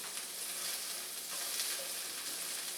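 Garlic fries in a hot pan, giving a close, steady sizzle and crackle that holds at an even level for the whole stretch, with no voices.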